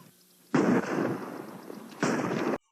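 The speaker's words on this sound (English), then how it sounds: "they shot Santa" Loud film gunfire in a Christmas movie where Santa is shot: a heavy close burst followed by sustained roaring noise and a second blast, filling the scene with no talk.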